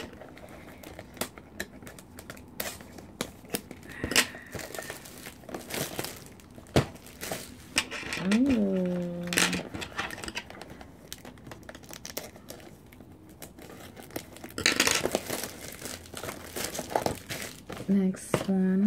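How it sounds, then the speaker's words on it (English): Cellophane wrapping is peeled and torn off small boxed Disney collectibles, crinkling in bursts with crumpling and rustling handled close up, while someone talks over it. "I'm gonna remove all of this cellophane."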